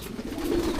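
Racing pigeons, including young white birds, cooing softly in a loft, a low steady murmur held through the short moment with no voices.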